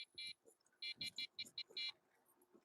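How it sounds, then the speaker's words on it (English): A small vehicle horn gives a string of short, bright beeps of uneven length. The beeps are fairly faint and separated by brief gaps, with faint low background noise underneath. "See if my little horn works."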